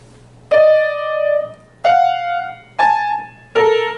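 Four loud, sustained, harsh dissonant chords played one after another, each struck sharply and left to ring for about a second, with a low steady hum underneath.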